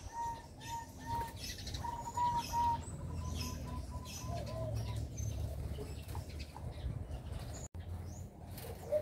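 Doves in a breeding cage for young birds, with soft cooing and scattered chirps over a steady low background hum, some brief wing flutters, the calls repeating irregularly at a moderate distance.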